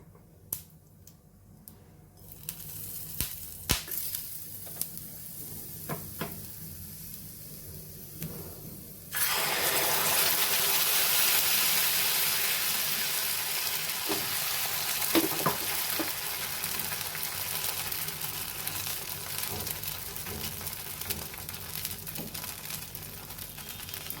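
Ghee with a pinch of cumin seeds hits a hot pan and bursts into loud, steady sizzling and frying after quiet clicks and taps, the crackle staying bright and continuous until the end, with no talking.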